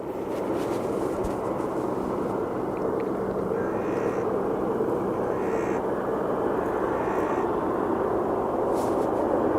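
A jet engine spools up at Aberdeen Airport, a broad steady roar that holds loud and even throughout, with a faint higher whine drifting over it at times.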